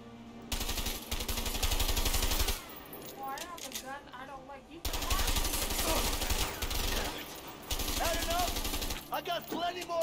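Video game gunfire: two long bursts of rapid automatic shots, loud and close, separated by a brief lull, with a voice speaking between and under the bursts.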